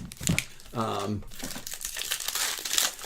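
Close crinkling and rustling of a trading card pack's foil wrapper as it is handled and torn open, heard in short bursts under ongoing talk.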